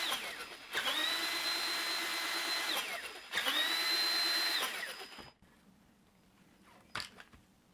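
An Axial SMT10 RC monster truck with a 27-turn brushed motor on a 2S LiPo whines electrically in two revving bursts, each rising, holding and dropping off, followed by quiet with a brief click.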